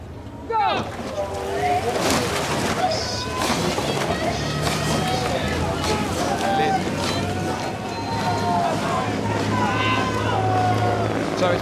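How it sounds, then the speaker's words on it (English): Two rowing eights racing side by side at Henley Royal Regatta, Princeton University B crew against Newcastle University A, their oars catching in a steady, driving rhythm over wind and water noise, with people talking throughout. "enjoying the sound of two explosive eights moving like a steam train pulling out of the station"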